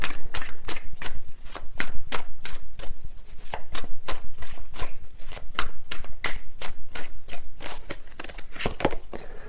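Tarot cards being shuffled at a steady, rapid pace, with crisp riffling snaps repeating densely and close by for the whole stretch, with no one speaking.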